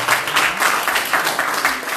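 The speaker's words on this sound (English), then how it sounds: "let's give another round of applause to the state representative" Steady applause from a crowd at a merchant meeting in Hamtramck, Michigan, many hands clapping together in a dense, continuous wash of sound with no talking.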